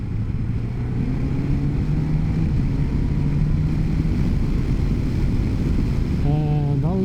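Steady roaring wind buffets the microphone while riding a Suzuki GSX-S1000GX motorcycle, with a low engine drone underneath and a brief rising engine whine near the end.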